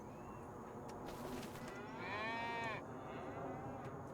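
Small young cows moo on a farm, a single drawn-out low moo rising over constant outdoor background noise, moderately close, with a few faint knocks around it and no talk.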